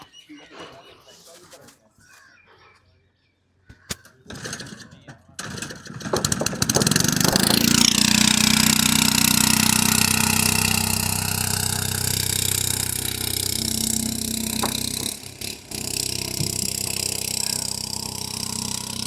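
A small, light boat in Kashmir carrying five motorbikes and about thirteen people: its engine rattles and starts up, then settles into a loud, steady mid-pitched drone, with voices talking over it.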